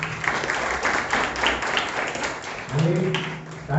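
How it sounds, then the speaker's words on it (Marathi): A church congregation in Pune claps together during a Sunday service, a steady patter of applause with voices talking and singing over it. "आपण जोरदार एक टाळ्या वाजवूया"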